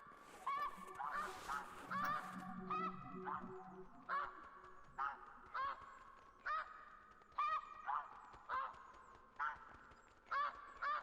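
Ducks call repeatedly in the hunting video game theHunter: Classic, with honking, quacking bursts spaced a second or so apart. The birds sound moderately near and ring out clearly over a faint background.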